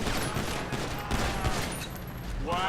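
Dense gunfire bursts through a GTA police simulation shootout, rapid overlapping shots heard at a distance under a constant noisy game backdrop, with radio chatter running through.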